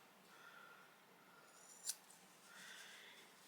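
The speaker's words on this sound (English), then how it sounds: "I'm going to snip that cord off." Scissors snip through a cord stitched to a lined black lace fringe purse, giving one sharp, close, quiet click-snip in a hushed room with faint soft rustling around it.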